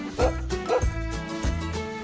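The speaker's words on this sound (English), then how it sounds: "Look, a dog is in the hay." A dog barks three times in a quick, uneven series of fairly loud, close woofs, with its harmonic yips ringing between them, in a farm setting with hay.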